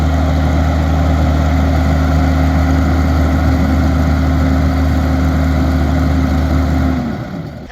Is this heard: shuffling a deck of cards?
no